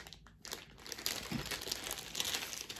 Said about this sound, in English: So we'll take it out of the plastic.